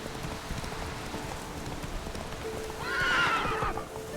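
Roach the horse in The Witcher 3 lets out a loud neigh near the end, over steady hoof clops and a background of rain, with no talking.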